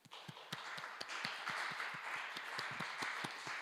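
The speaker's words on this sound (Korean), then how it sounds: "우리 하나님께 다시 사신 우리 주님께 영광의 박수를 올려드렸으면 좋겠습니다" Sparse, fairly faint clapping from a church congregation at an Easter Sunday youth service, individual claps standing out irregularly over a soft room wash for a few seconds.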